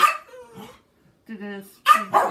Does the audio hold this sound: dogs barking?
yes